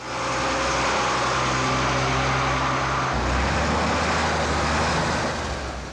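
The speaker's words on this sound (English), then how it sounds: "the quiet of the pre-dawn hours is shattered by the drivers closing up their trucks and moving them out" Delivery trucks leaving a Coca-Cola bottling plant: a loud, continuous engine rumble and broadband roar of heavy vehicles moving out, with a low idling tone that shifts partway through.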